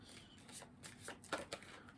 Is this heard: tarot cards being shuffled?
yes